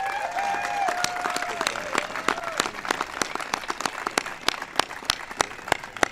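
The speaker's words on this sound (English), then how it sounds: "let's give a big round of applause to Mrs." Audience applause at a White House ceremony honoring the Super Bowl champion Denver Broncos, a crowd clapping steadily with sharp individual claps standing out, while a voice speaks briefly near the start.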